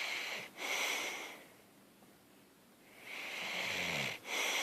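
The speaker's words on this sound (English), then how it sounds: "Back to snoring." A person passed out asleep snores in slow, drawn-out breaths, two long rasping inhalations separated by a quieter pause, close and steady with no talking.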